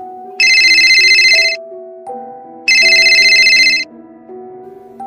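A mobile phone ringtone plays at close range: two loud, shimmering bursts of ringing layered over a looping stepped melody, with no voices.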